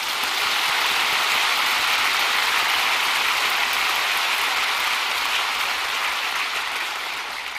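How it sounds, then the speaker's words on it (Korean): A congregation at a Korean church sermon applauds, a dense, steady wash of many hands clapping that stays loud and even throughout, with no talk over it. "그러므로 우리 하나님께 한 박수를 치십시오"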